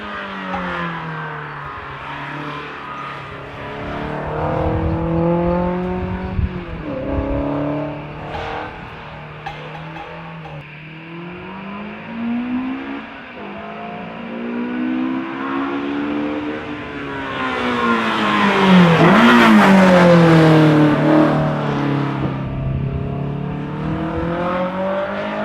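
The Alfarrari, a custom car on a racetrack, drives laps with its engine rising and falling through repeated revs and gear changes, building to a loud, close surge before easing off, no talking.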